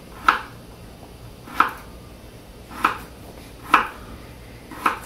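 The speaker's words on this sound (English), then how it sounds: "then you just start cutting your slices" A knife slices through potatoes for hash browns and strikes a cutting board, five crisp, evenly spaced chops about a second apart, close and clear over a quiet room.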